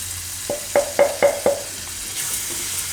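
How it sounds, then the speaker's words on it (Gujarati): Tomato gravy for Gujarati khandvi shaak cooks in a pan. Five evenly spaced spoon taps against the pan ring out close by over a soft, continuous sizzle, with no talking. "તો તેલ આમાં છૂટું પડે ત્યાં સુધી ગ્રેવીને પકાવી લેવું આપણે"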